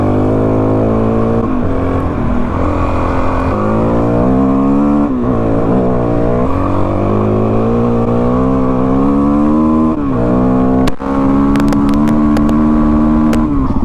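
A dual-sport motorcycle revs and shifts along a long dirt straightaway in the hills, its loud engine note climbing and dropping through the gears steadily from start to finish.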